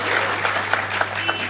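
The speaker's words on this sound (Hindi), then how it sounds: "मैं आपसे आग्रह करता हूं कि जोरदार तालियां एक बार बजाय मंच को जागृत कर दें।" Applause from an audience at a Hindi poetry gathering in Tirwa, a brief burst of many hands clapping together with a steady hum beneath.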